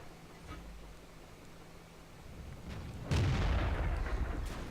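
A deep boom from a tank cannon firing in a tank combat video game, rising out of steady low background rumble near the end and then sustaining as a heavy rolling roar.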